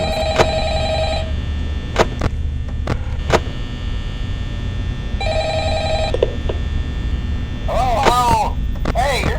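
A telephone rings repeatedly in the horror video game Five Nights at Freddy's, sharp ring bursts over a steady electrical hum, with brief clicks and a short warbling tone near the end.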